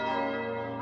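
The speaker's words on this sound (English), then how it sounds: "The bells are consecrated, each one christened with a name" Church bells of Notre-Dame de Paris ring out in a brief, full, resonant toll with long-sustained overtones.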